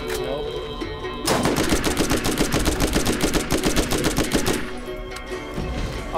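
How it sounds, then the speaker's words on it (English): Rapid automatic gunfire from a sniper rifle in the video game Borderlands, a dense burst of sharp shots lasting about three seconds, loud and close, with quieter game ambience before and after. "this sniper rifle sucks. It only has 3 bullets."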